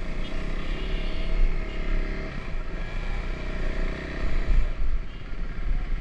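Motorbikes and a scooter riding together on a road trip, a continuous loud engine drone with some clatter and wind, swelling briefly near the middle and again toward the end.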